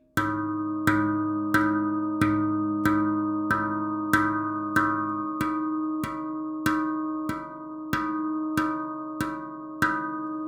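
A handpan shoulder tone, muted, is struck repeatedly in an even rhythm, about a dozen ringing metallic tones with isolated pitch, each decaying before the next clear hit.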